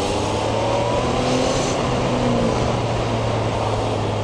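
Yamaha XSR 900 three-cylinder motorcycle accelerating on the road while being ridden, a steady loud engine drone with rising tones under heavy wind rush, no talking.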